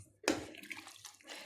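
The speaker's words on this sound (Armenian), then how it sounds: "անեմ գթալը լվանա" Tap water suddenly gushes onto a spoon being washed in a kitchen sink while borscht is being made. The close, rushing splash continues steadily for just over a second, with no voices.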